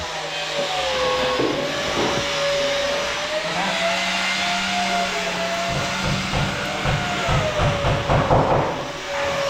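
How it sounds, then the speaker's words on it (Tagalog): TIG welding stainless steel with argon gas produces a steady, loud hiss and hum with a faint tonal whine. Intermittent buzzing and crackling join in toward the end. "ginagamit po namin welding sa paggawa ng stainless"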